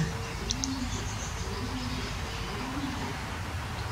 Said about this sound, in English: But this thing is just pigeons.